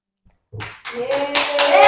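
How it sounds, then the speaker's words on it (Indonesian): Children in a classroom clap their hands together in a quick run of rhythmic bursts that grows louder, while young voices chant along in time with the claps. "Tepuk tangan dulu"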